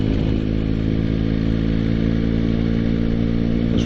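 A motorcycle riding on a country road, its engine running steadily at a constant gear with a dense, even drone and some wind rush, loud and close throughout.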